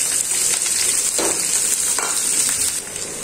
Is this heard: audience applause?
no